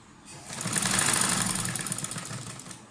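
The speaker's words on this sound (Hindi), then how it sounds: "किनारी की सिलाई लगा लें" A sewing machine stitches along a curved fabric edge. It starts up after a short quiet moment and runs as one quick, even, mechanical whirr, then slows near the end.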